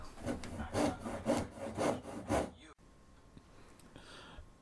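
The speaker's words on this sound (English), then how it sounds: "Now I can cut that angle" A hand saw cuts an angled kerf into wood for a French cleat, five or six rhythmic rasping strokes close up, then the sawing stops and the room goes quiet.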